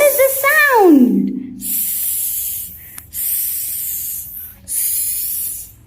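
During a phonics lesson, a voice imitates a snake with a sharp hissing s sound. A brief falling vocal slide comes first, then three sustained hisses separated by short pauses, close and fairly loud.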